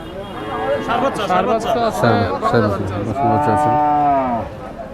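Loud, drawn-out cow moos sound close by, one after another, with people chatting in the background at a cattle market in Kaitla, Mirzapur, Tangail, Bangladesh.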